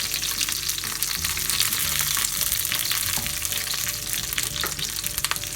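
Curry leaves frying in a pan of oil for Kerala-style pepper chicken, a loud, steady crackling sizzle that runs throughout with small sputtering pops, close up and with no voices.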